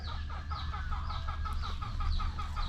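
Roosters and hens cluck in a Cebu farmyard, with repeated close clucks over a steady low background hum and no talking.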